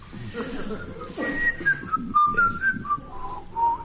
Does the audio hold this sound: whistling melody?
yes